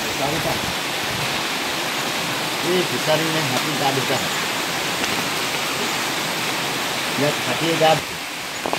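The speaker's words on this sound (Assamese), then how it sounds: "এইটো যিটো নদী দেখিছে, সেই নদীয়ে পানী আহি আছে।" A small river stream flows through a jungle resort in Papum Pare, Arunachal Pradesh. The water makes a steady, even rush throughout, with faint voices talking now and then beneath it.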